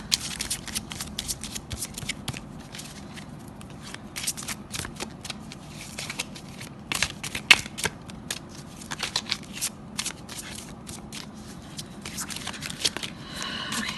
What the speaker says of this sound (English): my cards were starting to flip for my oracle deck